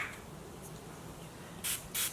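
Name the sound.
spraying rose water, aloe and witch hazel facial mist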